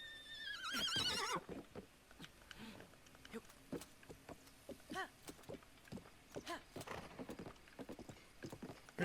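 A horse gallops in a Zelda video game, opening with a loud whinny and then rhythmic hoofbeats that come in bursts. Faint background sounds run beneath.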